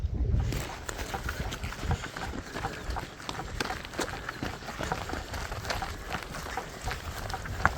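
A horse's hooves clop steadily on the ground in an uneven walking rhythm, close by, with faint background noise and no talking, on a long walk across the Isle of Wight.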